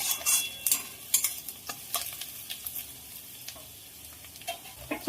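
Beans, carrots, onion and green chilli frying for chowmein, stirred with sharp irregular spatula clacks against the pan over a soft continuous sizzle.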